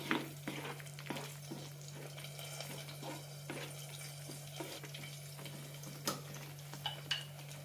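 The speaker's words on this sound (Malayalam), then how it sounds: "നന്നായി മിക്സ് ചെയ്ത ശേഷം ഒന്ന് തിളപ്പിച്ചെടുക്കാം." Bottle gourd masala curry bubbles and spatters in a pan, with soft continuous simmering and scattered pops and spoon scrapes over a steady low hum.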